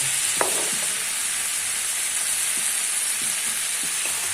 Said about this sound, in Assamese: মই এতিয়া লাও আগটো বিলাহীৰ লগত ভাজি পিনি ইয়াত নমাই থৈ দিলোঁ